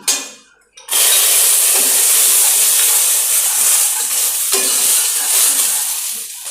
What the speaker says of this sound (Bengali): এখন আমি সবজিটা মানে কাঁচা লঙ্কাটা দিয়ে দিচ্ছি